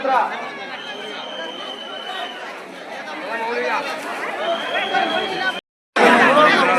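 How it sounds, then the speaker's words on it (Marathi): Dense pilgrim crowd at Pandharpur on Ashadhi Ekadashi, a steady hubbub of many overlapping voices, close and loud, with a brief dropout near the end before the chatter resumes at full strength. "लय गर्दी झाली"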